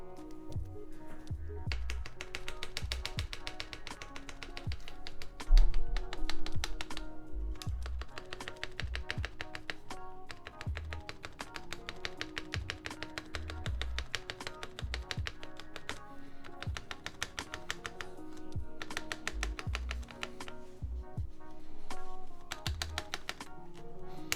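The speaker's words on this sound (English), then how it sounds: "get some keys on here and test them to see how they sound." Typing on a Keycult No2 mechanical keyboard fitted with Cherry MX Vintage Black switches: a steady, dense run of crisp key clacks and bottom-outs close to the microphone, with one heavier thump partway through.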